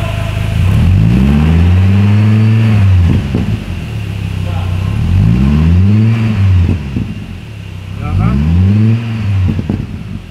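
A Hummer H3 with tuned aftermarket exhaust mufflers revs up three times, each a loud rising-and-falling roar close by, with a steady idle rumble in between.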